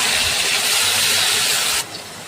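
Onion paste hits hot oil with whole garam masala, bay leaf and cumin seeds and gives a loud, steady, close sizzling hiss that drops abruptly near the end, with no talking.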